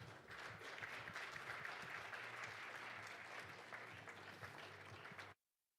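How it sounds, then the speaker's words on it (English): Sustained audience applause welcoming the World Bank's general counsel at an international judicial conference, steady dense clapping from a large hall that cuts off abruptly. "Please welcome him with a warm round of applause"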